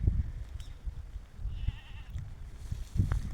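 Goats bleat in a couple of short, low calls on a farm during drizzly spring weather, close by, with rustling and light background noise between cries and no talking.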